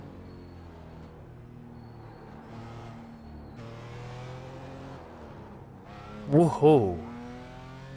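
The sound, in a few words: BMW M4 GT4 race car engine in a racing video game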